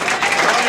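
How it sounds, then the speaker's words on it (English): Wedding guests clap and cheer in a brief, dense burst of applause filling the room, loud and close. "Can you give a round of applause for that?"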